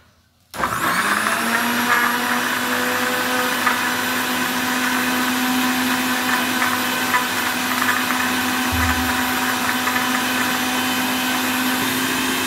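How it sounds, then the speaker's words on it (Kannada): A juice mixer blending curry leaves and fenugreek switches on after a brief silence, then runs at a loud, steady whir with a constant motor tone for the rest of the clip. "ಇವಾಗ ನಾನು ಜ್ಯೂಸ್ ಮಿಕ್ಸಿನ ತಗೊಳ್ತೀನಿ, ಜ್ಯೂಸ್ ಮಾಡೋ ಮಿಕ್ಸಿನ ತಗೊಳ್ತೀನಿ"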